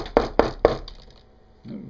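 Three sharp knocks in a quick, even rhythm, close and fairly loud, followed by a faint low thud.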